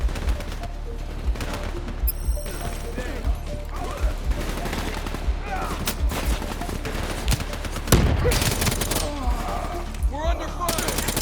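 Rapid gunfire in the shooter Black Ops 3: sustained automatic bursts and sharp single shots crack steadily over a busy battle din, with a heavy crash near the middle and voices calling out amid the shooting.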